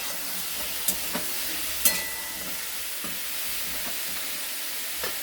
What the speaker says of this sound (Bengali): আঁচটা কমে দিচ্ছি, হালকা হালকা ভাজা হোক।